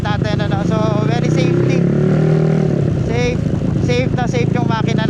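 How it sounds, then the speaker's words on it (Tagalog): Four-valve motorcycle engine running steadily with a strong cooling fan whirring alongside, loud and close under someone talking. "Ang lakas ng fan maka-cool down ng makina ng coolant natin"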